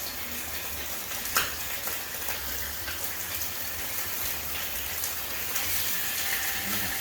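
Spanish mackerel and mackerel grill side by side, producing a continuous close-up sizzle and crackle with occasional sharper pops and no voices.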